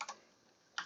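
Short bursts of keystrokes on a computer keyboard, a quick cluster at the start and another at the end with a quiet gap between, close and crisp.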